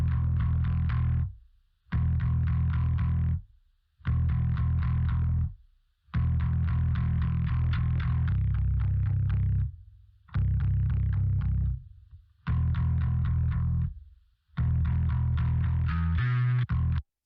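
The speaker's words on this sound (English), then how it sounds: "the bass should sound really farty and really muddy and very murky" Heavily distorted, muddy bass guitar with no EQ applied, loud and thick in the lows, played in repeated phrases separated by short gaps, with a brief brighter, buzzier rattle near the end.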